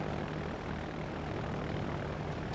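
Propeller aircraft engines droning overhead in the naval combat game World of Warships, a steady, fairly faint hum with a low pulsing tone throughout, no voices.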